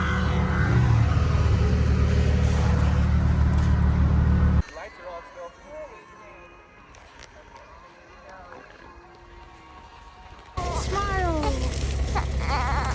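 Off-road vehicle straining in deep snow on a snow-wheeling trail run, its engine roaring loud and continuous, then dropping away to quieter sounds with people talking before the roar returns.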